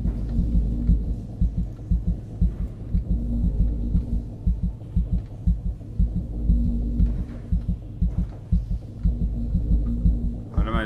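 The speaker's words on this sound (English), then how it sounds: "Why is my heart beating?" A slow, heavy heartbeat thuds steadily in Amnesia: A Machine for Pigs, the paired beats repeating evenly over a low droning hum with no speech.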